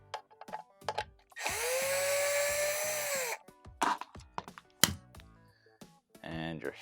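A cordless power tool whirs in one sustained two-second burst while backing out a 1/4 inch screw holding the heater of a Whirlpool Swash unit, surrounded by scattered clicks, knocks and handling sounds.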